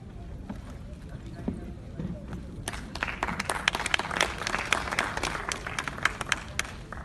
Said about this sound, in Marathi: टाळ्या होऊन द्या मित्र